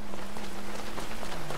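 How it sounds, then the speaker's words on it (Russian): Steady rain hiss in the video game GTA 5 fills the whole moment, an even wash of patter with a faint low tone beneath it. "И опять дождь."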